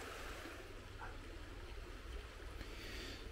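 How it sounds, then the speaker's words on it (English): A low river running over stones beside an outdoor woodcarving spot, a faint, steady rushing wash with soft gurgles, distant and continuous with nothing else heard. "the river runs over the stones and it makes a lovely sound in the background"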